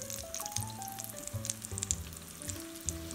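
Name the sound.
second batch of fish tikka frying in oil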